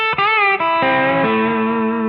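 An electric guitar plays a short bluesy phrase with quick picked notes and a bend, settling into a sustained, slightly overdriven note.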